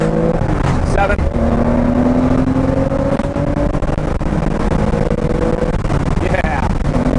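An early hot-rod Porsche 911 engine pulls hard under throttle from inside the car, a loud continuous roar climbing in pitch through gears, with a person talking over it.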